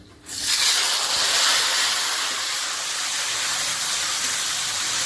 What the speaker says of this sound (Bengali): একটু ভাজা ভাজা হয়ে গেলে এবার আমি দেবো টমেটো কুচিটা